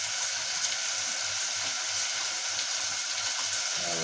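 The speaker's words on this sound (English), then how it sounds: "Then the beef stock." Beef stock being poured into a pot of vegetables makes a steady, even gushing of liquid, continuous and fairly close, with a faint rhythmic hum underneath.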